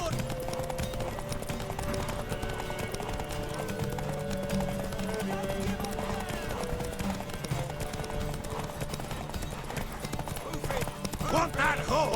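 Rapid galloping hoofbeats run continuously with a horse whinnying, mixed with game sound effects and occasional voices, from The Witcher 3.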